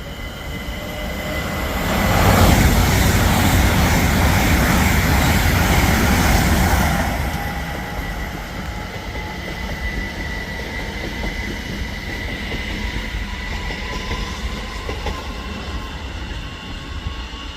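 An LNER Azuma train passes on the East Coast Main Line at Hitchin, a loud rumbling swell that peaks for a few seconds and then fades into a steady distant hum with faint squeal.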